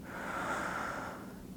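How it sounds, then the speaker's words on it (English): A single long, deep breath drawn close to the microphone during a shoulder massage with a massage tool, a steady breathy rush lasting over a second, soft and alone. "I'm going to breathe deep."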